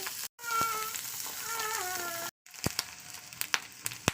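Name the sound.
egg frying in a pan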